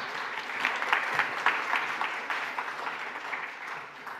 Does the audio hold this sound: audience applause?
yes